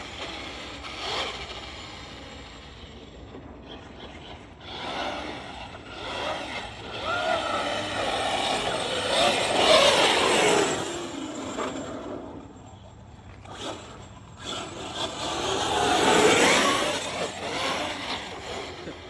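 A Traxxas Xmaxx 8S RC monster truck with a TP5850 motor on an HB Max 5 setup makes a high electric whine that swells and fades twice as it runs past, with quieter gaps between.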